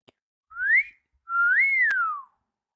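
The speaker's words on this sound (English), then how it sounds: "I know it may be inappropriate to wolf whistle, but hello." A two-part wolf whistle, a short rising note and then a longer note that rises and falls, clear and close with quiet around it.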